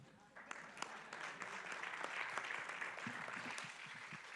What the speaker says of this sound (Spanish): Un aplauso, ¿no? Para el auditorio.